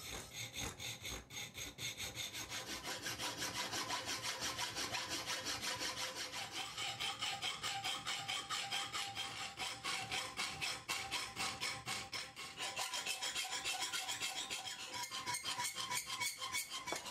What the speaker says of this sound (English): it's pretty much more of the same with the drills, hacksaws and files to bring it to shape